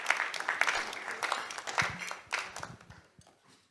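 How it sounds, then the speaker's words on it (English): An audience at a business breakfast meeting claps in a round of applause, moderately loud and spread out, fading over the final second. "Shall we now welcome with a round of applause Mr. Boahene Asama"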